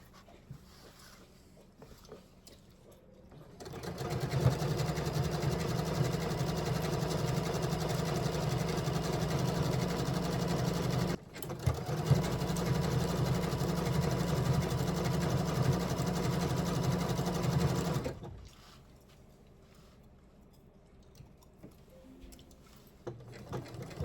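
A sewing machine runs an overlock stitch in one steady, close whirring burst of about fourteen seconds with a brief pause in the middle, set between quieter stretches of room tone.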